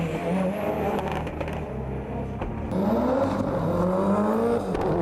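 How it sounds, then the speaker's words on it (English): Number 14 Mitsubishi Evo 3 rally car racing at the Waimate 50 motorsport festival, a revving engine climbing and dropping through gear changes with whirring and rushing noise, loud and close throughout. "The next fastest man was Jeremy Beaton from Christchurch, driving the number 14 Mitsubishi Evo 3"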